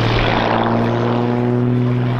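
Propeller drone of an Xtreme Air XA41 aerobatic aircraft at an airshow, a loud, steady buzzing engine note with strong low harmonics that sustains without a break.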